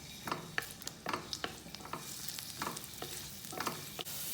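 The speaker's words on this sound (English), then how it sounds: "Firstly, add the chopped garlic. And roast it till lightly brown." Chopped garlic being stirred and roasted in a pan while cooking vegetable lasagna, with a steady low sizzle and repeated scraping strokes of a spoon against the pan, close and moderately loud.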